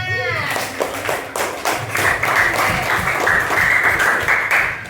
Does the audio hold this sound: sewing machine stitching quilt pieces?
no